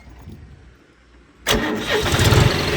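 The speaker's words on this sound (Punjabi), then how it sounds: "ਸਟਾਰਟ ਕਰਕੇ ਦਿਖਾ ਦਿੰਦੇ ਤੁਹਾਨੂੰ ਟਰੈਕਟਰ" A quiet rumble, then a John Deere 5105 tractor engine cranks and catches abruptly, settling into a loud, throbbing heavy diesel idle nearby.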